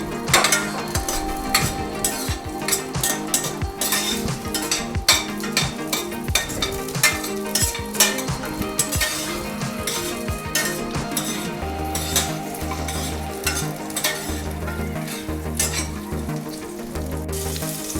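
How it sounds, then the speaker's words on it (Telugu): Green chillies and cashew nuts fry in a pan with onions for an Andhra-style vegetable pulao, giving a steady close sizzle with frequent utensil clinks and stirring scrapes throughout, no talking. "Green chilli, క్యాష్యూనట్స్. ఇది కొంచెం ఫ్రై చేసుకుందాము."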